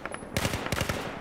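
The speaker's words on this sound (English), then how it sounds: "Iu, kakva pucnjava čovječ" A short, rapid burst of machine gun fire in Battlefield 4, loud and close, about a second of rattling shots.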